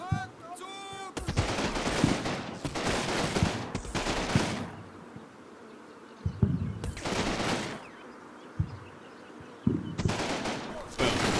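Gunfire in the Combat Mission WWII video game, with loud bursts of rapid machine-gun and rifle fire in several long volleys separated by quieter gaps and scattered single shots, heard without talking.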